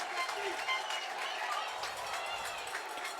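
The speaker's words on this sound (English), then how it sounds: "And the Wall Township crowd gives him a hand" A crowd at an ice hockey game applauds a goalie's save, a steady wash of clapping heard from a distance, faint, with an announcer's voice over it.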